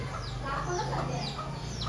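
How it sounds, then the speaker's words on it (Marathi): A hen clucks in short repeated calls close by at a home, steady over a low background hum. "घरांक कोंबडी आली बघा"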